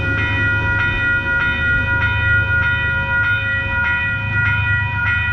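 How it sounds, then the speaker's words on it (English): A train stops at Manitou station on the Hudson Line in New York, with a loud, steady rumble, sustained tonal squealing and faint regular clicks of wheels on rail joints. "This is a rare shot of a train stopping in Manitou."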